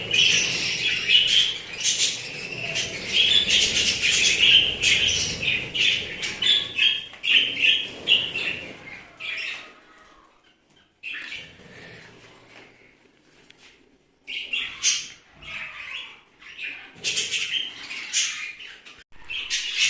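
Dense, high-pitched chirping and squawking from many pet budgerigars, busiest at first, then thinning into scattered calls with short pauses.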